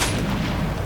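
Gunfire in the mobile shooter game Call of Duty Mobile, a dense continuous burst of loud booming shots filling the whole second with no pause.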